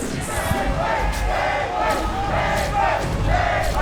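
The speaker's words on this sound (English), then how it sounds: "now the dueling chants, the Penguin chants coming out of the crowd" A packed crowd at a Rivals of Aether esports tournament chants a player's name, loud rhythmic massed voices swelling in repeated waves that fill the hall continuously.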